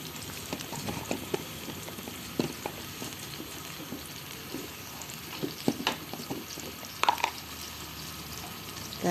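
Chili, onion and garlic frying in hot oil in a home kitchen, a steady low sizzle broken by scattered crackles, pops and the scrape of stirring, close and moderately quiet.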